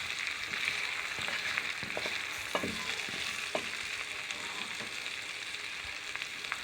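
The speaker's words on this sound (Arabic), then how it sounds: "لو انتوا سامعين الصوت. تمام، هي لازم تتشوح، الخضار لازم يتشوح معاك كده" Vegetables sauté in a hot pan for lentil soup, a steady close sizzle and hiss with occasional soft scrapes and taps from stirring.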